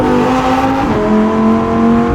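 A Novitec Lamborghini Huracan EVO RWD with a full race exhaust revs hard, its engine note rising, dipping briefly, then climbing again, loud and close with no talk.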